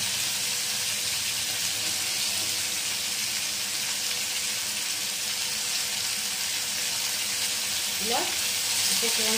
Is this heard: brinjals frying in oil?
yes